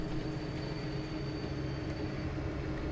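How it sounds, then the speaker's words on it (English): A train in Farming Simulator 19 rumbles along steadily with a low, continuous rolling drone and a faint thin whine, even in level and close, with no other sounds over it. "I'll stop the train here."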